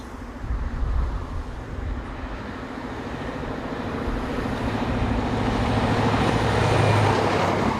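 An HST passenger train on the Swansea to Paddington run pulls away from Newport with a steady, distant diesel rumble and rail noise that slowly swells in loudness.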